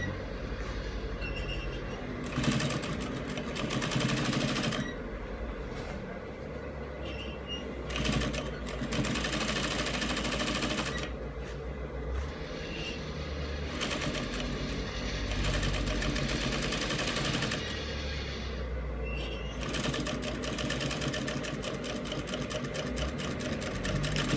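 A sewing machine stitching piping onto the neckline of a kaftan, running in steady motorized bursts with brief pauses between runs, close and continuous over a low hum.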